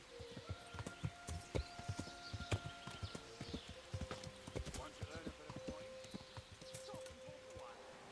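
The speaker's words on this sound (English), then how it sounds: "Let's see if we can calm the horse down with her" A horse's hooves clip-clop steadily in the video game Kingdom Come Deliverance, close and clearly rhythmic, with occasional snorts or a whinny mixed in while someone talks over the top.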